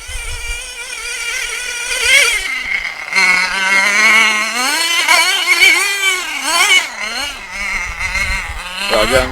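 A small RC car engine in the snow revs up, its high whining pitch sweeping up and down through several bursts, loud and close for the whole stretch.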